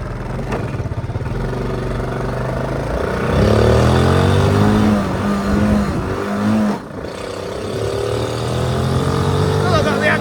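A Honda Cub C70 classic motorcycle engine runs in neutral while the bike is ridden and slows down, a loud, close, steady drone with shifting pitch under rushing wind noise, and a voice talks over part of it.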